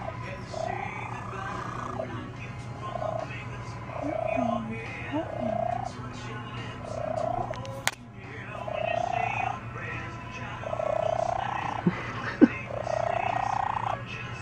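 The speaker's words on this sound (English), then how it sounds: "Is that a normal cat noise?" A cat makes a string of odd, low, croaking, froglike calls in short bursts with a purring rumble beneath them, fairly close but soft, while people talk faintly in the background.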